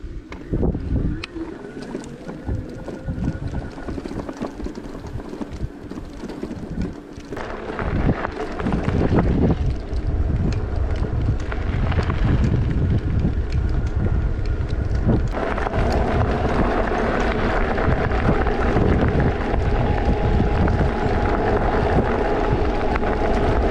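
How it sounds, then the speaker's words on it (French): Strong wind buffets the microphone while riding an e-bike outdoors, a continuous rumbling roar that swells and shifts throughout, loud and close. "Il y a un petit peu de vent."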